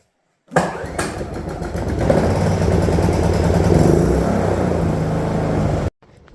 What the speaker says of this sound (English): This is the generator.